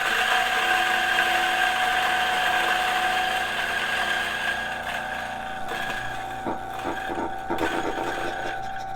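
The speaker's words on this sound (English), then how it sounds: "I put a couple beans in here already, and I'm just going to grind them on the current setting." A Turin DF64 coffee grinder grinding a few coffee beans, a steady, loud motor whine with a crunchy rattle throughout, easing slightly toward the end, close and with no talking.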